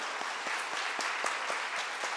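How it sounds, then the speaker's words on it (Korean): A congregation claps together in steady, enthusiastic applause at a church New Year service, with rhythmic clapping lasting the whole short stretch. "2022년이 됐으니까 우리 함께 박수로 축하하고"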